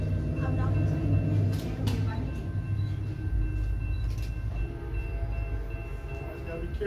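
A train rumbles steadily nearby through Mineola during a festival, with rhythmic clanks of cars rolling past, while people talk over it.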